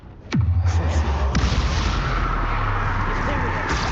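A Confringo fire spell blasts off in the video game Hogwarts Legacy, a sudden loud explosive boom followed by a deep rumbling roar and crackle that carries on throughout, with a second smaller burst about a second later.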